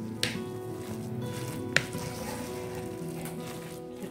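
Coconut milk being stirred and folded into glutinous rice gives a soft, continuous wet squishing and crackle with a couple of sharp clicks, faint and close, with no speech.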